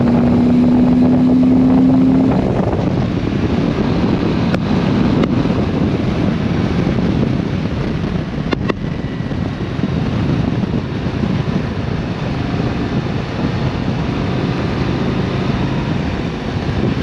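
Steady roaring wind buffets the microphone while riding a Harley-Davidson Street Glide Special motorcycle on an open road, a dense continuous rush with low rumble and no one speaking.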